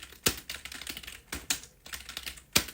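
Keystrokes on a computer keyboard while typing the mkdir command, a handful of sharp, separate clicks spaced irregularly, close and fairly quiet, alone.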